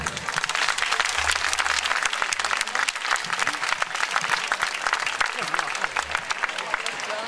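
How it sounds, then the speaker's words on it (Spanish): An audience at a Benaguasil festival night on stage in 2015 bursts into dense, sustained applause for parents and collaborators, loud and continuous throughout with a crowd murmur beneath. "I s'aplauso primer de la nit per a tots ells"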